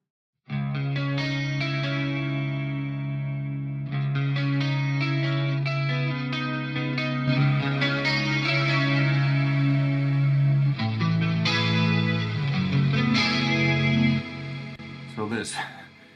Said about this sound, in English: So there's Dimension D chorus, SPX90 Symphony chorus, 3 chorus, 3 choruses,